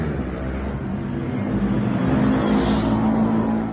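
Street racers' vehicles in an illegal night race on Jalan Murjani, Palangkaraya, Central Kalimantan, a steady, dense engine roar with a low rumble that holds at even loudness and swells slightly toward the end, with no talk.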